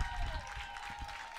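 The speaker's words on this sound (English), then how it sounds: "The applause you're hearing" Distant crowd applause at an outdoor high school soccer match, a steady soft patter of clapping with wind noise and low rumble beneath it, fairly faint throughout.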